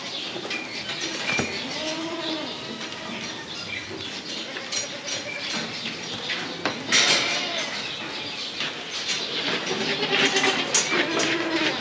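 Several goats bleat intermittently, some nearer and some farther off, with soft rustling and outdoor background noise between calls.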